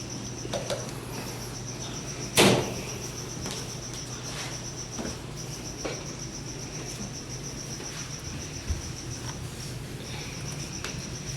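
Crickets chirp steadily and continuously inside reptile tanks in an indoor reptile room, with a brief louder knock partway through.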